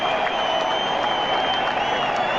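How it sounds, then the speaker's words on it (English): Simulated crowd at Fenway Park in an OOTP18 baseball video game (1967 Red Sox vs 1978 Yankees), cheering as a steady, dense roar that holds without a break. "Lou Piniella steps to the plate as the Fenway faithful cheer that play"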